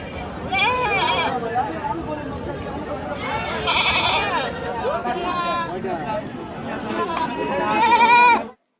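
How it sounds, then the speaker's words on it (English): Goats bleat repeatedly in loud, wavering cries, several calls overlapping, with people chattering in the background. "G for goat."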